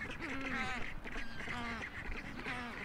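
Black-browed albatrosses calling at a nesting colony on the Falkland Islands, a steady chorus of harsh, braying, duck-like calls repeating close by with no pauses.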